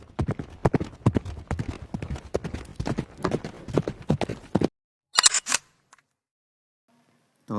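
A black horse ridden toward a village clops its hooves in a quick, regular rhythm, loud and close, for several seconds, then falls silent apart from a couple of short scrapes.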